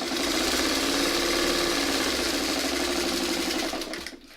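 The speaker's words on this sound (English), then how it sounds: "all I'm doing right now is sewing them together" A sewing machine runs steadily, stitching fabric pieces together with a fast, even mechanical whir close by, then slows and stops near the end.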